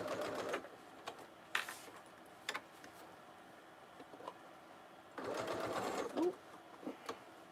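A sewing machine stitches a fanny pack in short bursts, with a longer run near the end and quiet ticking pauses between. A voice briefly exclaims.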